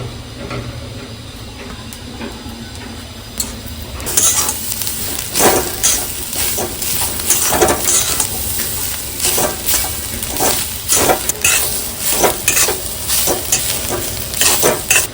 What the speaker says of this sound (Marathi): कांदा चांगला भाजलाय आपला ब्राउनिश कलर बरं आता आपण ओलं खोबरं घालू